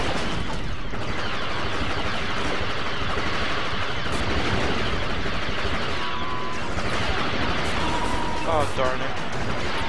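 Gunfire and grenade blasts rattle continuously through a Star Wars Battlefront battle, dense and steady throughout, with a player briefly talking over the din.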